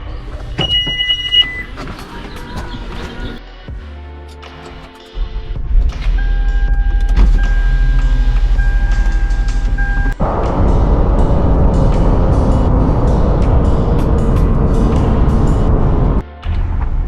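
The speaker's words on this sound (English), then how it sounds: "So we're pulling up to the salvage yard right now" A car drives along and pulls up to a salvage yard. Quieter cabin sounds come first, then steady loud engine and road noise hold for about ten seconds before briefly dropping out near the end.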